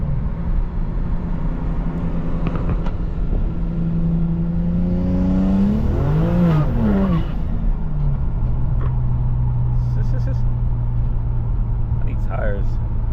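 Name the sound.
BMW 335i N54 hard acceleration with turbo and blow-off valve sounds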